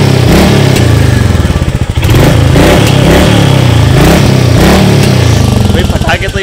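A Royal Enfield Meteor 350 motorcycle engine revs loudly up close with rough, crackling exhaust pops, while a person talks over the roar.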